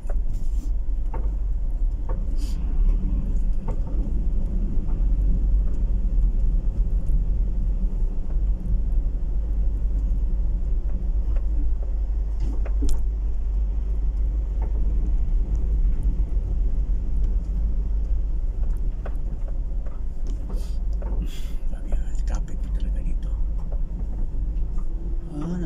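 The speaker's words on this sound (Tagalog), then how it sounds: "Oh, traffic." Steady low road rumble heard from inside a vehicle in slow traffic near a business park in Iloilo City, a constant engine and tire drone with occasional faint clicks, no talk.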